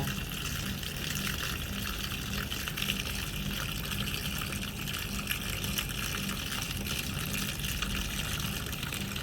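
Water gushes and splashes continuously while snails are rinsed clean of slime, a steady close stream pouring with no pauses or voices.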